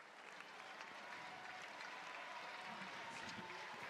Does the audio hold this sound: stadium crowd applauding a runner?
yes